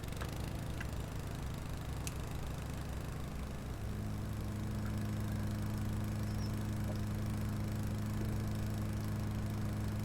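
Lawn mower engine droning steadily in a cemetery in the video game Rising Star 2, a constant low hum with a slight shift in pitch partway through, no talking.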